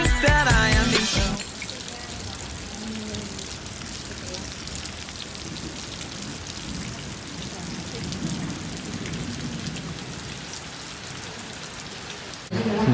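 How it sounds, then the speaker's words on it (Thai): Heavy rain pouring down steadily with thunder, a dense, even roar of drops hitting surfaces that goes on for the whole stretch, with a brief burst of other sound at the very start. "ตอนนี้จะกลับบ้านแล้วฝนแบบ ตกหนักมากฟ้าร้องแบบน่ากลัวมาก"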